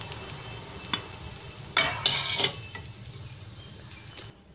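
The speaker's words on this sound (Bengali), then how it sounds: "দিয়ে এদিকে একটা আমি ডিম একটু নুন দিয়ে ঝুরি ঝুরি করে ভেজে নেব।" A beaten egg with a little salt fries in a pan and is stirred into crumbly scrambled bits, giving a faint, soft sizzle with a few brief scraping stirs in the middle.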